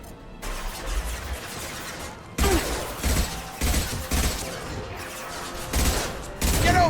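Gunfire in the video game Mass Effect 2 comes as repeated loud bursts of shots with crashing impacts, a dense firefight with short gaps between volleys.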